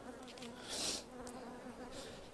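A honeybee colony hums steadily in its hive, a soft close buzz with individual bees swelling louder as they pass near, quiet overall and without speech.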